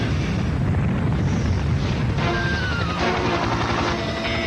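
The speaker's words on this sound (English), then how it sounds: "We have ignition. We have liftoff." A rocket ignites and lifts off in an animated action scene, a loud continuous rumbling roar with dense low-end thunder and hiss throughout, a rising whine emerging partway, no talk.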